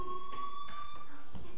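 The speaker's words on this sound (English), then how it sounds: "do you hear that fire alarm?" School fire alarm in the video game Life is Strange, a steady electronic tone ringing continuously at moderate loudness beneath game sounds, with a voice speaking over it.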